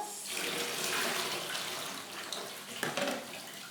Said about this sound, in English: We will go ahead and again strain our rice noodles.